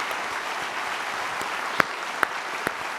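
Audience applause at the National Geographic Bee final for departing student competitors, a steady dense wash of clapping with a few sharper individual claps standing out near the end.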